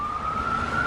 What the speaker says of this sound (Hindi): दूर से एम्बुलेंस की आवाज आई।